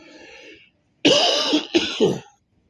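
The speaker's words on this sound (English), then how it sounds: "There you go, coughing again." A single harsh, loud cough bursts out close by after a brief murmur, breaking into two or three rasping pulses before quiet returns.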